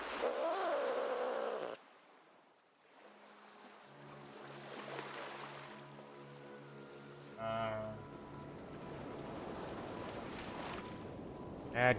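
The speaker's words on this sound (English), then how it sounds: "I've never heard my cat make that noise, but I've definitely heard other cats make that noise." Cat caterwauling in the Nancy Drew: Sea of Darkness video game: a loud, wavering yowl opens the clip and cuts off, followed by quieter game ambience with low sustained tones and a short burst later on.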